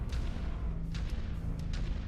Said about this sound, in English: just make a huge explosion there